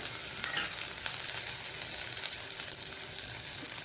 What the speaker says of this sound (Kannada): ಆನಿಯನ್ ಹಾಕ್ಕೊಂಡು ಅದನ್ನು ಚೆನ್ನಾಗಿ ಫ್ರೈ ಮಾಡ್ಕೊಳ್ಳೋಣ